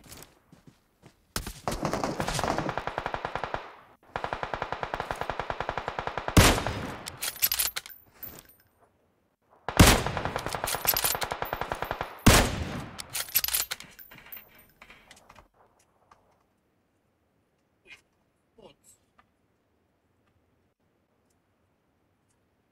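Automatic weapon fire in the PUBG Mobile battle royale game comes in long rapid bursts, loud and close, broken by short pauses and ending in silence, with no speech.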